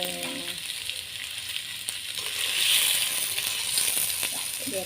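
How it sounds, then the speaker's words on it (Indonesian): Jengkol frying in hot oil for a Betawi dish, a steady crackling sizzle that swells a little midway, fairly quiet and continuous, with faint kitchen clinks and no talking. "Saya mau goreng, saya panasin minyak."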